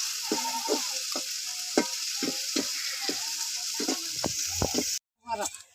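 Chillies frying in oil in a pan on a stove, a steady bright sizzle broken by a run of scraping stirs before it cuts off near the end.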